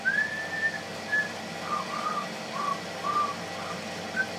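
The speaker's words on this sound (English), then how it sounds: "I wonder if I can still whistle." A person whistling a simple, wavering tune of short notes and pauses, fairly clear and close, with no talking alongside.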